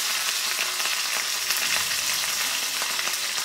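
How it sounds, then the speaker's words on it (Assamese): Fish frying in a pan alongside bamboo shoot, a steady, dense sizzle that runs the whole time, close and fairly loud with no talking over it. "এনেদৰে এইয়া ভজা আৰম্ভ কৰিছে"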